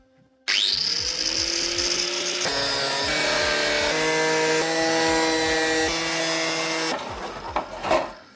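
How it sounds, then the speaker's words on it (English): An angle grinder cutting through a car side skirt. The motor spins up sharply and whines loudly in a sustained cut that shifts in pitch as it bites, then winds down at the end. "make sure you've got a tight grip of that grinder"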